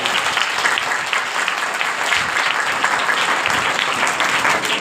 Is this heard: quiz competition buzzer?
no